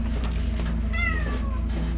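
A house cat lets out one short, rising-then-falling meow in the middle of a steady low hum, close and distinct, with no talking at that moment.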